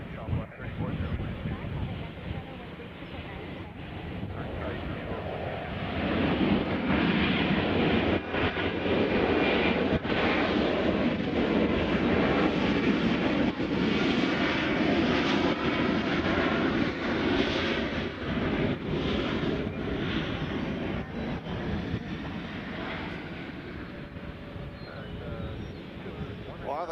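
Airliner in Insomniac livery passing at Nashville International Airport, its engine roar swelling from a distance to a broad, loud rush midway and then slowly fading, with wind noise over the microphone.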